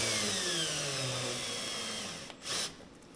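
A power drill with a step bit whines loudly and steadily while boring holes to mount mud flaps on a Trail Rider 570, the pitch sliding as the bit steps through, then cutting off abruptly.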